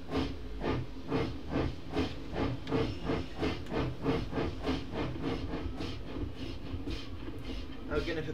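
A steam locomotive, GWR 5705, in Train Simulator gives off a steady rhythmic chuffing hiss of regular bursts at moderate level, with a voice speaking over it.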